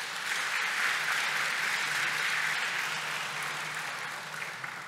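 Sustained applause from an audience at an academic year inauguration ceremony, a steady wash of many hands clapping that fades slightly toward the end, heard from within the hall.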